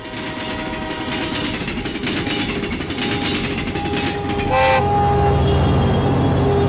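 A train in the video game Rebel Cops rumbles past with steady rolling clatter, then a brief horn sounds and the rumble grows louder and heavier.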